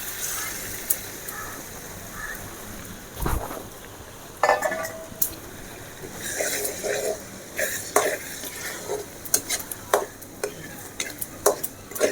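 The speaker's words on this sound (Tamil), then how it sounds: "இந்த நேரத்தில் இந்த முட்டையை இதில் நம்ம ஊற்றிக்கலாம்" Egg is poured into a hot pan with tomato and stirred, a continuous sizzle beneath repeated scraping and clinking of a spoon against the metal pan.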